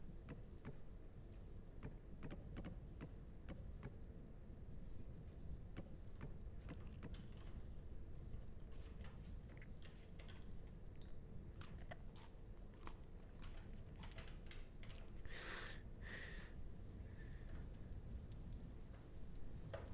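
Rain in the survival video game Vintage Story makes a continuous, soft, dense patter with scattered ticks and small splashes, steady from start to end with nobody speaking.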